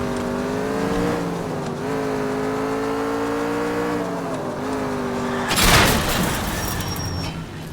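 Car driving in the video game L.A. Noire, a steady engine drone with shifting tones running throughout, then a sudden loud rumbling burst near the end.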